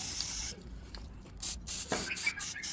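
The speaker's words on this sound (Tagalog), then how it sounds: "Ito naman, pipinturahan ko yung gulong." Aerosol spray paint hisses onto a wheel of a Nissan Pathfinder in several short bursts, close and fairly loud, with brief pauses between them.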